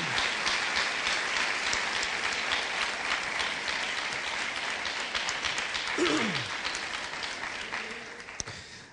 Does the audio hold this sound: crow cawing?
no